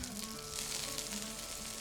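Steady, loud sizzling of sausages frying in a hot Dutch oven over a fire, a continuous crackling hiss with no talking.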